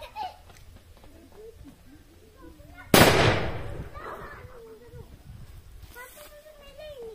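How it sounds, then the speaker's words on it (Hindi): A muzzleloader gun fires once with a sharp, loud blast whose roar trails off over a second or two, with quiet talk before and after. "पहली बार मैंने इसका फायर किया"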